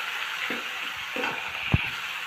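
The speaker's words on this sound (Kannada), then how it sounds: "ಆ ಹಸಿಮೆಣ್ಸಿನ್ಕಾಯಿನ ಇದರಲ್ಲಿ ಹಾಕ್ಕೋಬೇಕು. ಇದನ್ನು ಸ್ವಲ್ಪ ಫ್ರೈ ಮಾಡ್ಕೋಬೇಕು ಆಯಿಲಲ್ಲಿ" Chopped green chillies fry in hot oil with a soft, steady sizzle and hiss, punctuated by a few quiet stirring scrapes and a brief clack.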